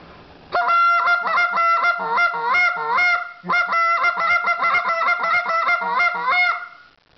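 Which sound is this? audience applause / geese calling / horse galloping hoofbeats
geese calling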